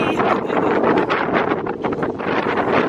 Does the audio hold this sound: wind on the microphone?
yes